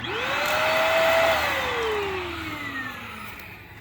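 A clogged corded stick vacuum motor spins up to a steady high whine, then gradually winds down, loud and close, with a strained, airy tone.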